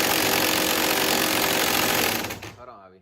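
Pneumatic impact gun hammering on a 2016+ Chevrolet Camaro steering wheel during a carbon fiber wheel installation, a loud continuous rattling burst lasting a couple of seconds before cutting off.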